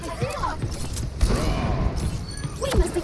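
Gunfire in a space-themed video game, sharp bursts and booms scattered among game sounds and voices, moderately loud and close.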